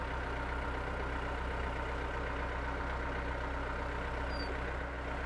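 A Yanmar YT359 hydrostatic tractor's engine runs at a steady, consistent rumble, holding a constant low drone throughout without any change in revs.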